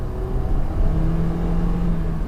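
A 2018 Toyota Corolla iM with a 1.8-liter four-cylinder engine pulls away under light throttle, its engine note climbing in a smooth, steady drone close by from inside the car.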